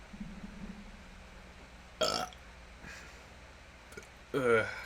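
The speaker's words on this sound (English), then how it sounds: "I don't like how sweet that burp tasted." A single loud human burp rises out of a quiet room, brief and wet, with a softer belch-like sound earlier; a voice speaks in between.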